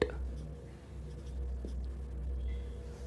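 Light scratching of a pen writing out a maths equation on rational numbers for a Class 8 lesson, faint and steady over a low background hum with no talking.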